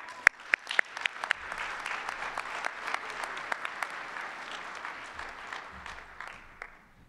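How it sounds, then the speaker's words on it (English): Banquet audience applauding, a sustained wash of clapping with a few sharp nearby claps standing out at the start, then holding steady and slowly thinning toward the end. "Please give yourselves a pat on the back and a round of applause."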